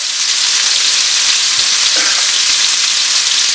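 Steady, dense sizzling of venison browning in a hot frying pan, loud and continuous with faint crackles throughout.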